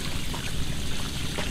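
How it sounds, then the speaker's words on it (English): Water pouring steadily from a homemade siphon after it clears, a continuous close rushing and trickling flow with no talk. "Very strong siphon system."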